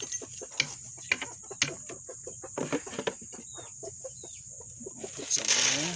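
Backyard chickens cluck softly in a quick, scattered series of short calls, faint and somewhat distant, with a light steady hiss in the background.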